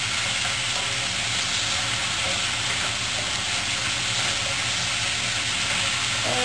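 Spareribs stir-fry in a hot pan with a loud, steady sizzle and hiss that stays constant throughout, close up and without talk.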